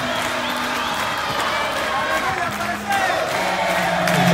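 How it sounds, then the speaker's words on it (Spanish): Crowd cheering and noise at a national tonada folk music festival in Mendoza: a broad, continuous roar of audience voices with shouts, under an amplified voice and some tonal sound. "Vamos a darle un fuerte aplauso."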